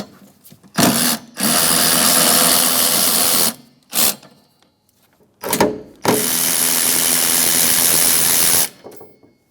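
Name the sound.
loosening 16 mm wiper arm nuts with a power tool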